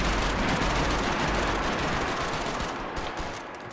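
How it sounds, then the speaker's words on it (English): Dense, loud gunfire fills a Max Payne 3 multiplayer urban firefight as a continuous roar of overlapping shots, easing slightly toward the end. "I shot with the pistol."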